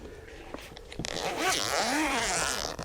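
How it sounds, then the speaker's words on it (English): A double zipper on the XTAR SP150 solar panel's nylon case is pulled in one long rasping run lasting over a second, loud and close, after a few soft handling clicks. "I like that it has a double zipper"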